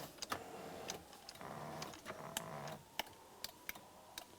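Driver's power seat switch in a 2000-2006 Chevrolet Tahoe being tested inside the cabin: a string of sharp plastic clicks and ticks at irregular intervals, close up, over a low motor whir, with no talking.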